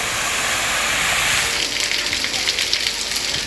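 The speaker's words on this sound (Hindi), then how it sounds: "लोधरा और गिरदोनवा में वक्फे से बारिश चल रही है।" Heavy storm rain pours down in flooded streets, a loud, dense, continuous hiss and splatter that holds steady throughout with no talking.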